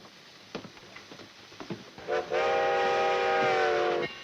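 A train horn sounds one long sustained blast for about two seconds as a train arrives at a station, following a few scattered clanks and rumbling noises.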